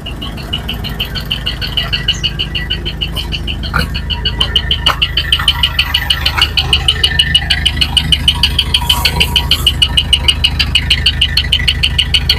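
Idling engine of a Suzuki T120ss minibus heard at the exhaust: a steady, close, rhythmic pulsing putter with a faint metallic rattle, holding an even beat throughout and growing slightly louder partway in, with no one speaking.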